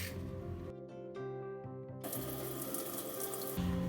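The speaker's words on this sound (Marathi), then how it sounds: "आता आपण ही डाळ स्वच्छ धुवून घेऊया." Tap water runs into a sink while lentils for sambar are washed, a steady rushing stream that cuts off briefly and then resumes, with faint clinks of a vessel and no talk.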